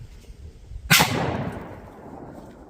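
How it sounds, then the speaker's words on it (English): A single loud shotgun blast of birdshot hits a treated 2x6 board outdoors, a sharp crack followed by a long echoing decay. "we're just going to shoot 1 with the BirdShot"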